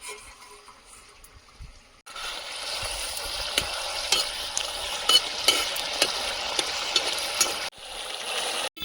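Snakehead fish goes into a pan of spiced masala for a spicy oil curry, setting off an abrupt, loud sizzle that holds steady for several seconds with scattered clatters of stirring.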